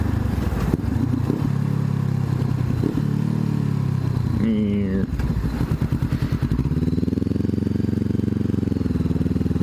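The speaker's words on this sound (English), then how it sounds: "That's the benefit of riding a motorcycle." Motorcycle being ridden and turned around, its engine chugging and changing pitch as it slows and pulls away again, with clattering and scraping, and someone talking over it.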